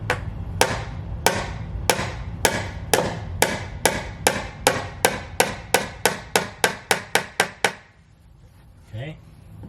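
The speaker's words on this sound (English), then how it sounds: "to drive the nails, if you hammer like this, quick release, it doesn't go in" Nails are hammered into wooden stairs during a carpet-to-wood conversion: about eighteen sharp, loud hammer strikes in a steady rhythm that quickens toward the end, followed by a pause and a faint brief sound.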